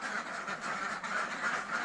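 Laying ducks kept fully indoors in an intensive pen quack continuously in a busy chorus, moderately distant and fairly quiet, with no talking.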